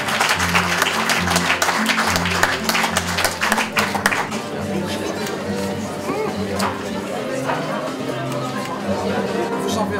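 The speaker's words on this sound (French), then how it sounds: "Et on l'applaudit encore." Audience at a French science talk applauds, a steady dense clapping held loud throughout, mixed with crowd chatter and background speech.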